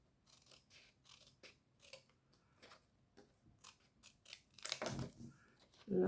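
Scissors cut a decoration for a plate in a series of soft, close, crisp snips. A louder rustle comes near the end and a voice is heard briefly.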